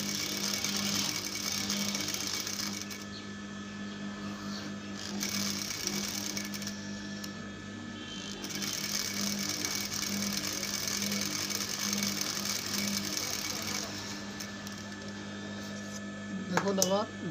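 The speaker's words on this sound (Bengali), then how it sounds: "আস্তে আস্তে সেলাইটা দিয়ে নেবেন। আমি আস্তে আস্তে সেলাইটা দিয়ে নেব।" A sewing machine stitches the neckline of a kameez in a continuous mechanical whir, loud and close, pausing briefly a few times, with someone talking over it.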